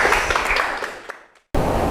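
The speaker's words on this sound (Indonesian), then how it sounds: "Baik, tepuk tangan semua." Applause and clapping from students in an Arabic-language classroom lesson, a dense steady patter that fades out, stops briefly, then starts again loudly.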